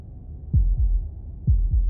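Two paired heartbeat thumps from a video game, each a deep lub-dub double pulse, repeating about a second apart, clear and close with a faint hum beneath and no talk.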